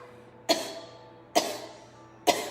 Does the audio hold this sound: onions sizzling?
no